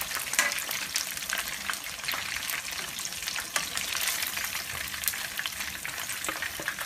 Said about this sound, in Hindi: फ्राई करेंगे 7 से 8 मिनट ताकि चिकन अंदर से गल जाए